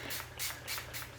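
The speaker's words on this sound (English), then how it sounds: "only other thing I'm gonna do is just spray." A hair sheen spray misted over microlocs in quick, soft hissing bursts, about four short puffs in a row, close and fairly quiet.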